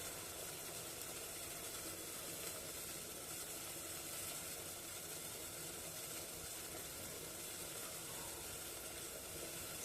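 A pot of sweet mixture boiling hard on a high flame, giving a steady, loud, unbroken hiss and roil with no pauses and no voices.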